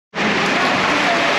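Heavy rain comes in suddenly and keeps pouring as a loud, dense, steady hiss, heard from indoors in a distillery tasting room.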